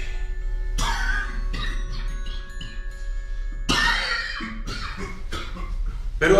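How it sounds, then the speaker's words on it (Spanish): An older man coughs in a fit while walking through a residence: several harsh bursts, one long racking spell, then a few more close coughs over a low steady hum. "un ataque de tos le llegaba de"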